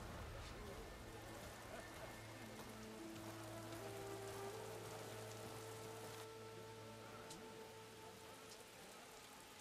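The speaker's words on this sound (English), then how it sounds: "rain! We finally have rain." Steady rain pours in Horizon Forbidden West, a dense, even hiss of drops on surfaces that holds through the whole stretch, with faint musical tones drifting underneath.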